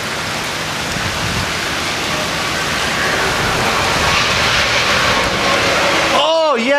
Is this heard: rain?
yes